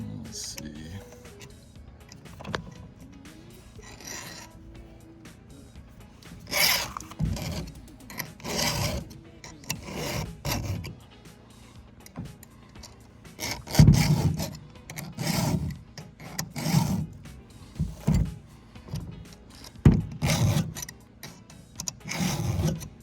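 A chainsaw chain is sharpened with a hand file, giving repeated rasping strokes in uneven bursts, close and fairly loud, with quiet pauses between passes.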